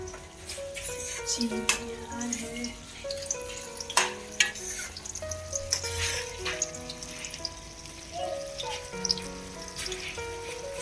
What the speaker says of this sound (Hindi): हमारा खाना तैयार हो रहा है। आज हमारे यहाँ बनता है खिचड़ी